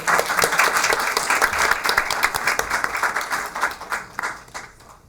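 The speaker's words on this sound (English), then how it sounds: "I want one more round of applause for our teachers." Applause for teachers at a school committee meeting: a dense, steady wash of many hands clapping together from the audience, sustained without talk and fading off toward the end.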